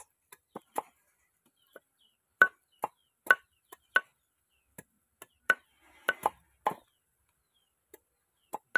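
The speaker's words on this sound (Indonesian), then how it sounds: "proses bacok ini ya, proses babat ini ya, menghilangkan mata tunas dari lengkuas" Sharp cuts of a machete or cleaver knocking the buds off galangal rhizomes, about fifteen crisp, dry impacts at an uneven pace, some in quick pairs, close by with no talk.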